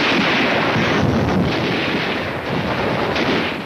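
Wartime mortar and rifle fire during the fighting at Tarawa, heard as a loud, dense wall of rumbling blasts and crackling shots, continuous and distorted, on an old film soundtrack.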